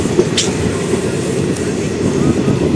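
From aboard the Garudadri Express running at speed past Puttur, a steady loud rumble and rattle of the carriages runs throughout, with faint squeal near the start.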